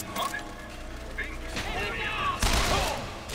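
Gunfire in Bioshock Infinite, a mix of mechanical clicks and scattered shots building to a sharp, loud burst near the end, with game sounds layered throughout.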